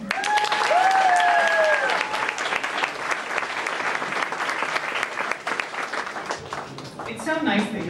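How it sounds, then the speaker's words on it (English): An audience at a school end-of-year celebration applauds loudly and steadily for the whole stretch, with a few shrill whistles near the start and the clapping thinning slightly toward the end. "So nice that you all clapped"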